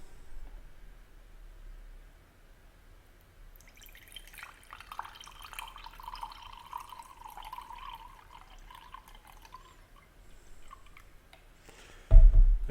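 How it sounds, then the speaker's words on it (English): Prime drink poured into a glass: a thin, faint trickle of liquid rising over several seconds after a quiet start, ending in a brief louder knock. "But now I'm just going to pour this one."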